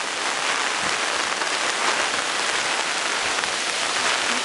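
Floodwater rushes down the flooded New York Avenue in Huntington, NY, a dense steady roar and hiss of moving water, loud and unbroken throughout with no voices.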